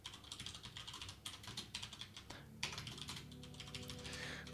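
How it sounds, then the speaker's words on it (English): Fingers type on a computer keyboard, quick quiet irregular clicks and key taps in close bursts with short pauses, heard alone at low level. "I completely forgot how to print stuff on my keyboard"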